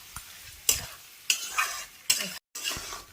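Aloo dum being stirred in a frying pan, a spatula scraping in four distinct sweeps about half a second apart over a soft sizzle, close and clear with a brief silent gap near the end.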